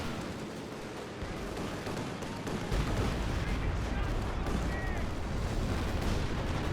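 Explosive blasts and rumbling gunfire from a Stuka dive bomber attack in the Company of Heroes 2 strategy game, a dense, loud, continuous battlefield din with a heavier low boom building partway through.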